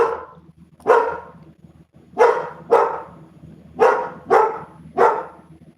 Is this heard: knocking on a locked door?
no